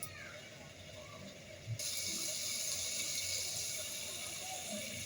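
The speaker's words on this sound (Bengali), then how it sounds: "সিদ্ধ হওয়ার জন্য অল্প পানি দিয়ে দিচ্ছি।" Water poured into a simmering pot of fish curry with potatoes and bean seeds, a soft steady gush that begins partway through and continues, fairly quiet with faint kitchen clatter.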